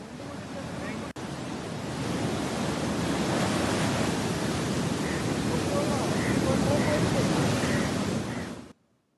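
Sea waves surge onto the shore along an eroding coast, making a loud, steady roaring wash that fills the whole span, with wind noise on the microphone and a sudden cut near the start.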